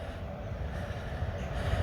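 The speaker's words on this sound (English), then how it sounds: "there's a train coming across for us" A train rolls across the Welwyn Garden City Viaduct, a Victorian-era brick railway bridge, giving a steady low rumble of wheels on rails that builds slightly toward the end, heard from nearby over continuous outdoor ambience.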